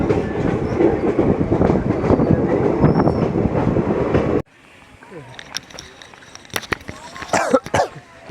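A passenger train pulling into Dhoraji station, rumbling and clattering loudly over the rails for several seconds before cutting to quieter platform sounds with scattered knocks and a cough.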